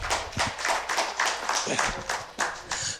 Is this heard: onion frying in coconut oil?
no